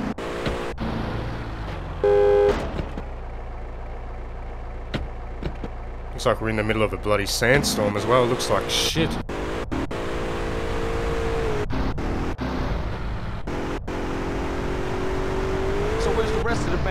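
Car engine from GTA San Andreas Definitive Edition on Xbox Series X, a steady droning hum with some revving bursts running throughout, heard under frequent conversation and game dialogue.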